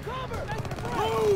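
Gunfire crackles in the Call of Duty WWII video game in a brief, busy burst of shots, partly under a voice talking.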